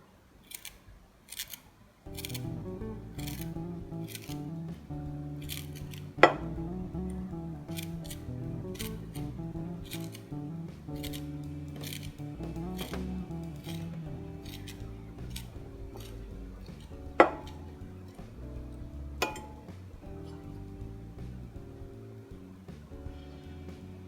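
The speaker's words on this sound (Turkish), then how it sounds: "Şimdi onun içerisine bir tutam maydanoz doğruyorum." A pinch of parsley is chopped for a salty lor cheese and potato croquette filling, giving light, steady cutting ticks with a couple of sharper knocks over continuous background music.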